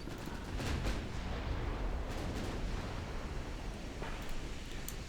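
Secondary naval guns firing in a naval warfare video game, a dense low rumble of steady bombardment with a few sharper booms standing out, continuous and fairly loud throughout.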